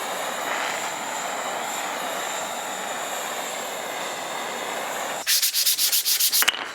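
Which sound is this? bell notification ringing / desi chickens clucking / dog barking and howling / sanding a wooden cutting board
sanding a wooden cutting board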